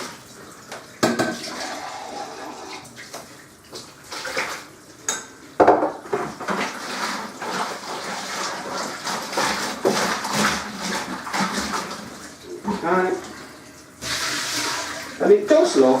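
Hot water poured from a small jug rinses home brew beer kit equipment, splashing and trickling up close amid clunks and knocks of plastic and metal parts being handled.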